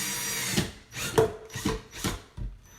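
A power drill drives a screw into a wooden baseball-themed crate in short, close, whirring bursts, about four or five pulses in quick succession with brief pauses between them.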